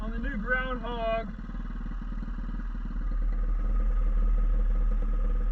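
A fat tire Groundhog motorcycle engine runs steadily and grows slightly louder as the ride begins, with a brief whistle-like tonal sound near the start and a continuous low rumble throughout.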